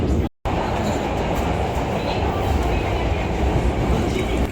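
Kyoto metro train rolling along in Japan, a steady loud rumble of wheels and car noise filling the whole stretch, broken by one brief dropout near the start.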